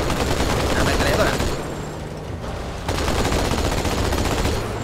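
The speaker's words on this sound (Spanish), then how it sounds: "La ametralladora." Vehicle-mounted machine gun in Halo 2 rattles in a dense, continuous burst, loud and close, with a brief dip in the middle before the fire resumes alongside other battle noise.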